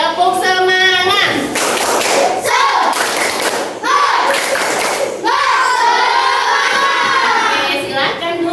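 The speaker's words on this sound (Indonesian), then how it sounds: "Coba tepuk semangat." Schoolchildren in an Indonesian classroom clapping a rhythmic spirit clap together, loud and close, with bursts of patterned clapping mixed with shouted chanting voices.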